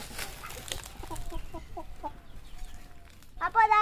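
Backyard free-range chickens cluck nearby in a quick run of soft, evenly spaced notes, followed by a louder, harsher squawk at the end.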